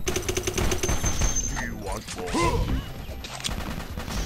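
Rapid bursts of gunfire in the video game Toy Wars crackle and boom, mixed with shouting voices and other game effects, loud and continuous.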